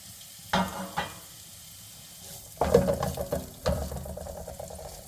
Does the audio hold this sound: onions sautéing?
yes